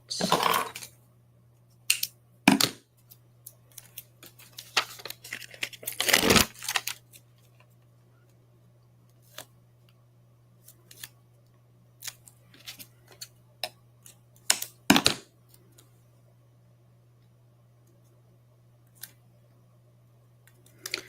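Scissors snipping through foam strips while layering pieces for a handmade Christmas card, giving sharp isolated cuts spaced irregularly, a few louder and close, over a faint steady hum, with no talking.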